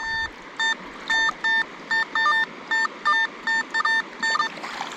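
Repeated short two-tone beeps from a metal detector as its coil swings over a piece of iron set on a rock by a river, a steady rhythmic series of bursts over a soft background of flowing water.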